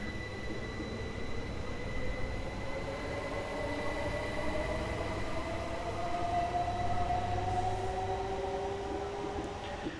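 Class 465 Networker train departing in a train simulator game with a sound mod, a steady rolling rumble with rising motor whine tones and constant high hum, close and continuous throughout.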